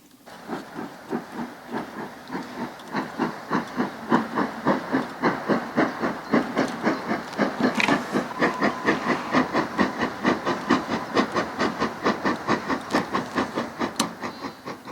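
On the West Coast Main Line in East Cheshire, a train locomotive backs onto and picks up its guards van, with a steady rhythmic chuffing beat building and holding over a hissing background.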